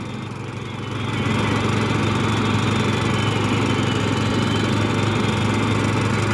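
A Badland 2500 pound winch drags a lawn mower forward with its parking brake on and the wheels locked, a loud continuous motor drone that swells after a second and holds steady and close, with no voices.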